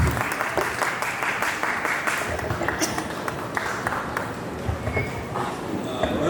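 An audience at a birthday celebration and awards event applauds loudly, dense, even clapping filling the whole stretch with faint voices under it.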